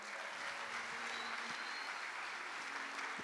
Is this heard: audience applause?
yes